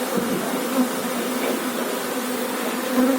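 Carpathian honeybees buzz steadily around a hive at an apiary during landing, a dense continuous hum with slight swells, close and alone with no voices.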